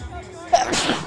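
A single sharp sneeze bursts out near a live high school baseball broadcast, a quick, close, explosive puff following a moment of quiet background chatter.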